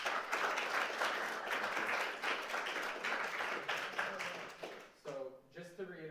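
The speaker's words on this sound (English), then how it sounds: "If we could just give them one more round of applause." A live audience at a panel discussion on Gaza, in a university auditorium, gives a sustained round of dense applause that fills most of the moment, then fades as a voice begins speaking near the end.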